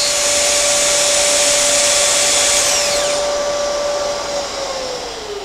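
A loud, steady high-pitched router whine with a roaring vacuum dust-extraction hiss runs continuously while cutting dovetail drawers on a Leigh jig, then the motor pitch drops as it winds down near the end.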